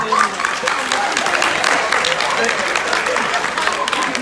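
An audience applauds after a tied race, a steady burst of clapping lasting several seconds with crowd noise.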